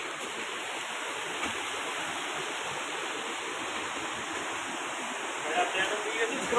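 Heavy-rain runoff streams along beside a road, making a constant broadband rushing wash that holds steady from start to finish, with a slight swell near the end.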